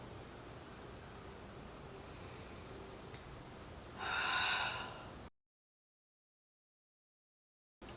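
A single audible breath during a beginner-friendly yoga hip opener, one soft exhale rising briefly over quiet room noise before the sound cuts to silence.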